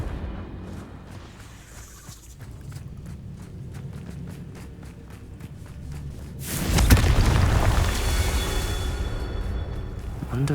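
A Confringo fire spell from Hogwarts Legacy bursts into a loud, broad blast, following a stretch of rhythmic thumping game sounds and ending in a sustained roar.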